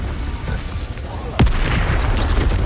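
The Incendio fire spell is cast in Hogwarts Legacy, a sudden sharp whoosh and boom that erupts over a steady rumbling background and then settles into a sustained fiery roar.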